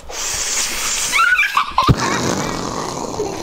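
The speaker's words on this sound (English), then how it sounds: "Your dog is biting me, sir." A dog whimpers and lets out several high yips in close succession, rising pitched cries clustered mid-clip over steady background noise, with a louder yelp near the middle.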